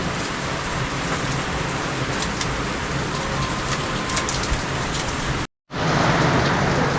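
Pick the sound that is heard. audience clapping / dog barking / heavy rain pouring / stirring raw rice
heavy rain pouring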